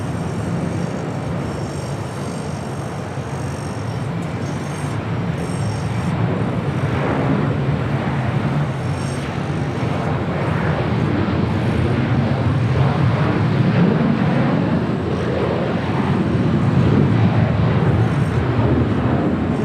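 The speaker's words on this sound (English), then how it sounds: "Next departure here on the south side, Delta Airlines flight 615 heading to Cancun, Mexico, 737-900 ER." Delta Air Lines Boeing 737-900ER jet departing Los Angeles International, a steady broadband engine roar that builds gradually and stays loud throughout, with no talk over it.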